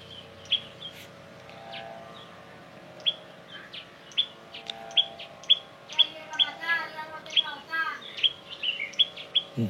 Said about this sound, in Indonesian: Jadi banyak burung-burung liar yang berkicau.